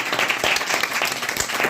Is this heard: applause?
yes